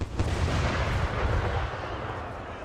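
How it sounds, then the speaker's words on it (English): A cannon fires in the Empire Total War video game, one loud, booming, rumbling blast that dominates the moment and fades slowly, heard alone with no talk. "Oh, cannon's about to shoot."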